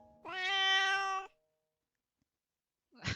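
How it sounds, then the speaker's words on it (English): A cat in the Piofiore video game gives a single clear, close meow lasting about a second, followed by silence and a brief faint sound at the end. "Kai responded to my mumbling with a concerned meow."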